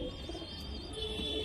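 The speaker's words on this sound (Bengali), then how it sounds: "এই একটা পায়রা, শখ করো" A Giribaj pigeon cooing softly, a low, quiet murmur close by against a faint steady background hum.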